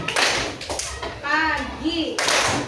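A group plays a hand clapping game, with rhythmic claps and taps mixed with a voice and children's chanting, the claps sharp and close throughout.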